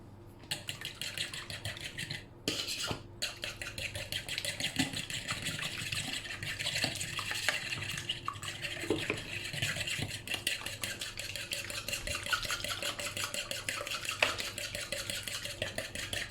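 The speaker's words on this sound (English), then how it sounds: "And then we're just going to whisk that together." A whisk beats pumpkin pie filling with spices in a bowl, a rapid, rhythmic tapping and swishing that runs continuously at close range after a brief pause near the start.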